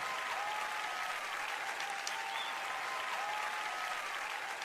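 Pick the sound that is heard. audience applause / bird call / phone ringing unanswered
audience applause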